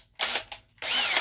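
A power drill with a dulling bit bores into a metal ammo box, giving two short whining bursts followed by a longer, louder grinding run, close and alone.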